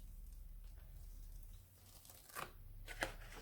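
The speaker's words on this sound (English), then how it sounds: "carefully peel off your art journal page" Art journal page being peeled away from its surface, a quiet tearing rasp with two brief crisp paper rips near the end, faint and close, with no talk.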